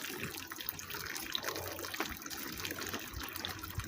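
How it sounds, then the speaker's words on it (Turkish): Pear molasses is being strained, and liquid pours and trickles steadily at close range, with a constant watery rush and no voices over it. "Evet, pekmezimizi süzüyoruz, armutlarımızı."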